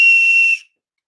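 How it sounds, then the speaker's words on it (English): A single shrill, steady blast from a novelty plastic Oscar Mayer wiener whistle, loud and close, lasting about half a second before cutting off to silence. "It's an Oscar Mayer wiener whistle."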